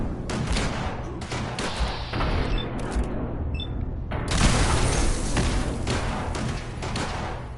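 Rocket launcher explosions and gunfire in the video game Fallout 4, with heavy booms and dense rumbling blasts filling the scene, loud and sustained with a brief lull.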